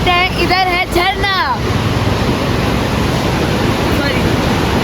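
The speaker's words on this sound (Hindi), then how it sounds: "इधर झरना नहीं है, इधर बहता हुआ पानी है।" Stream water flows steadily in front of a hotel in the Manali and Sissu area, a broad constant rushing wash that continues after a person briefly speaks at the start.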